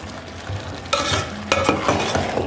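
Grated carrots stirred and fried in oil in a pan for gajar halwa, with scraping spoon strokes over a steady low sizzle, close and moderately quiet.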